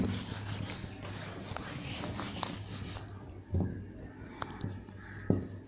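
A pen scratches out a maths solution by hand on paper, soft steady scribbling strokes with occasional taps, quiet and close.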